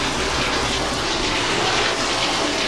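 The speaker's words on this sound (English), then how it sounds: "This is the shower running with the tub running." A shower and a bathtub run together in a house, making a loud, steady wash of water that fills the whole stretch with no talking.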